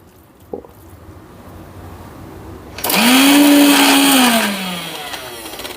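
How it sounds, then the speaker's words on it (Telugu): A mixer grinder blending ivy gourd chutney whirs to life after a quiet pause, running loudly with a high motor whine, then slowing and dropping in pitch as it winds down. "ఎప్పుడు మూత పెట్టి మిక్సీ పట్టుకుందాం"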